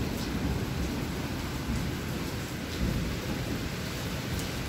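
A strong thunderstorm over Athens rumbles with rolling thunder beneath steady, heavy rain, a dense continuous roar with no voices.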